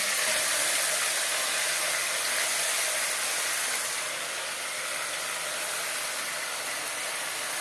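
Mutton pieces hitting hot mustard oil in a pan for a Bengali potato mutton curry, giving a steady, loud broadband sizzle that holds throughout and eases slightly partway, with no talking.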